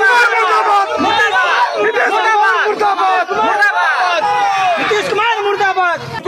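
Crowd of Bihari migrant workers cheering and chanting in unison, a dense babble of overlapping voices shouting praise for JDS leader Saleem Pasha, who arranged their food, loud and continuous throughout.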